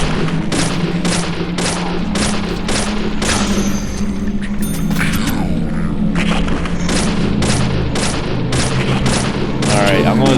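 Pistol gunfire in the video game Deadly Premonition: a rapid series of sharp, loud shots in steady rhythm over a constant low rumble, with brief gaps between bursts.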